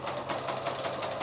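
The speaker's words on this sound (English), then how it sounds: "So I'm now going to sew that 1/4-inch seam allowance down there" Sewing machine stitching a quarter-inch seam on a quilt block over batting, a steady close mechanical whir with a fast regular pulse throughout, no voices.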